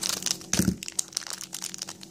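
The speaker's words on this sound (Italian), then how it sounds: "Uso le forbici adesso." Scissors snip and crunch through plastic LOL Surprise toy packaging, giving a string of close, crinkly cracks and crumples with one louder crunch partway through.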